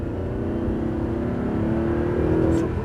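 An Audi R8 on a race circuit accelerating with a steady, loud engine drone that rises slightly in pitch and builds toward the end, heard from inside the car.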